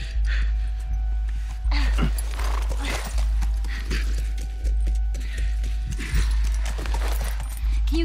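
Horse hooves in the video game The Last of Us Part II, a steady clip-clop rhythm of footsteps close by, repeating evenly under a low background hum.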